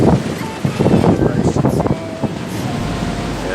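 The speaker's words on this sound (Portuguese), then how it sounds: "Olha lá, rapaziada, o tamanho das ondas." Ocean waves surge onto the shore at Barra Velha on the Santa Catarina coast, a broad rushing wash heavily buffeted by wind noise, with a voice faintly present.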